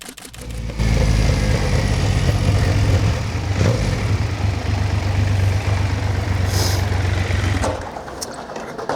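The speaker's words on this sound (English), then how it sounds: "go for a ride on my motorbike" A motorbike engine runs steadily and loudly nearby for several seconds, then drops off near the end.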